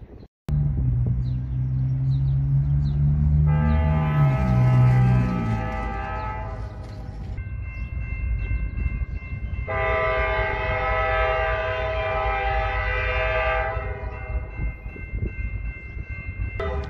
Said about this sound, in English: And I hear a train.